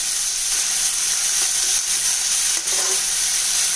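Vegetables frying in a pan with ginger garlic paste give a loud, steady sizzle and hiss, with faint stirring scrapes and no voices.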